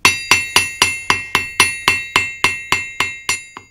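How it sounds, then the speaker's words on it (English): Metal ringing under a steady run of about a dozen hammer blows on an anvil, evenly spaced and loud, each strike sharp with a bright ringing tail. "so I can actually hammer a bit faster."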